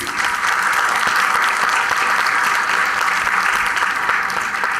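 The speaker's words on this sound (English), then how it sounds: "Let's give our distinguished panel a warm welcome and a big round of applause, please." Loud, dense applause from a conference audience welcoming a panel at an HR conclave, sustained evenly for several seconds without voices.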